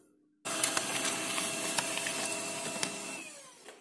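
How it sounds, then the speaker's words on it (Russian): A printer starts abruptly and runs with a steady loud mechanical whir and hiss while feeding a sheet of stiff glossy advertising paper, with a few faint clicks along the way. "Ставлю его в принтер и нажимаю печать."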